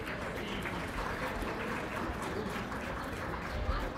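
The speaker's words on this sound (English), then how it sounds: "Give them all a great big round of applause." Spectators clap for a group of Myotonic goats in the show ring at a county fair goat show, a steady dense wash of applause throughout.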